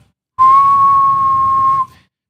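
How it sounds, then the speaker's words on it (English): A single sustained whistle blast, loud and steady, rings out alone for about a second and a half before cutting off cleanly. "Sometimes you got to grab the whistle."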